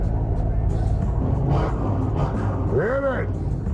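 A car engine drones steadily on the road, close and loud, with a rising and falling whine near the end as the vehicle is driven; voices talk over the motor.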